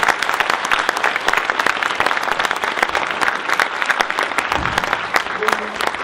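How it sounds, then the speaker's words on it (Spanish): Sustained applause from a university lecture audience thanking a doctor after an energy reform conference talk, dense steady clapping filling the room with a faint murmur of voices beneath. "le damos las gracias con un fuerte aplauso al doctor por su participación."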